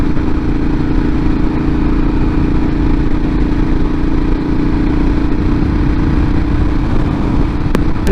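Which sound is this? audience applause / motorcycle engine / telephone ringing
motorcycle engine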